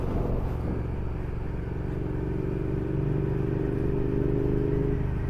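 A 2020 Triumph Speed Twin motorcycle engine drones steadily while riding, a close, continuous hum with wind rush and a slight rise in revs partway through, with no talking.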